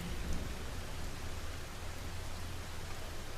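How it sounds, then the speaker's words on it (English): Steady rain falling in a green, leafy setting, a constant dense hiss at even loudness throughout, with no voices. "Listen to the sound of the rain and smell the greenery all around you."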